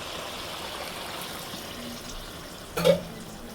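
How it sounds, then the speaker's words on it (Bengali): Water is poured into a pot of spicy bone-in chicken curry, a steady wet hiss with a short, louder splash near the end. "পানি দিয়ে দিলাম।"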